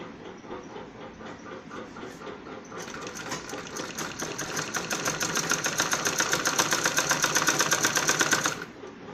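A sewing machine stitches a seam on an apple-cut kurti, its motor running in a fast steady chatter that grows louder and busier partway through before stopping near the end.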